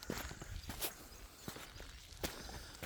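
Footsteps crunch through an abandoned quarry, a handful of distinct close steps spaced irregularly over quiet outdoor ambience, with no talking.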